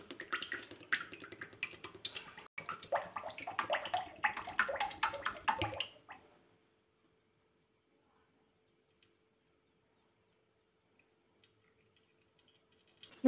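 Oil pours into a pot on a stove as a light, trickling splash for about six seconds, then stops, leaving near silence with a faint click at the end.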